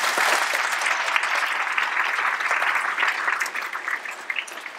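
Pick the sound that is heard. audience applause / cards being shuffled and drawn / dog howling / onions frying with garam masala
audience applause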